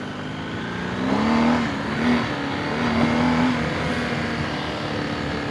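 A BMW R1250 GS Adventure motorcycle rides along a trail with a steady engine drone that swells gently with the throttle, a low rumble mixed with wind rush recorded close on the bike.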